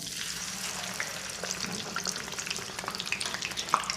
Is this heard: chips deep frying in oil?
yes